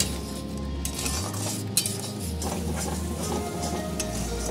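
Spice masala with tomato and chili is stirred and sautéed in a pan for a Makar Sankranti aloo dum, metal spoon scraping and clinking against the pan under a low background hum, no voices.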